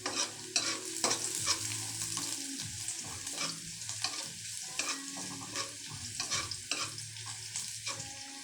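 Papaya sautés in a hot pan for pancit, sizzling steadily while a utensil stirs and scrapes against the pan in irregular clatters. The sound is close, with no talk.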